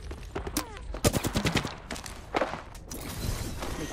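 Gunfire in the Apex Legends video game: bursts of shots, including a rapid volley around the middle, mixed with thuds and footsteps, with faint game noise underneath.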